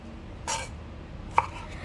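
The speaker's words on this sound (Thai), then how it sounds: "ต่อไปค่ะเราก็ มาหั่นมะเขือเทศ วันนี้ใช้เป็นมะเขือเทศลูกใหญ่อยู่ที่ 2 ลูกค่ะ" A knife slicing large tomatoes on a cutting board while making a spicy Thai salad, two separate crisp chops spaced apart, close and moderately loud with no speech.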